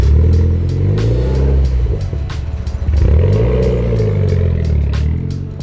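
A Mitsubishi Evo car revs and pulls away close by, its engine note rising and falling through loud accelerating sweeps with some clatter, no voices over it.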